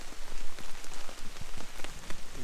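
Steady rain patters on a tent, dense, close pattering with scattered louder drops and no voices.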